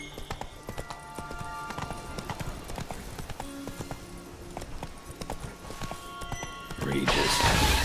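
A horse gallops with steady clip-clop hoofbeats in The Witcher 3 video game, the rhythm continuous throughout, with a louder burst of game sound near the end and a brief spoken voice.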